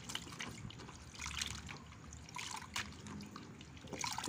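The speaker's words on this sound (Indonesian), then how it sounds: "Cuci dengan air mengalir" Quail eggs are rinsed under running water, giving a close trickle with small splashes and light knocks as they are handled.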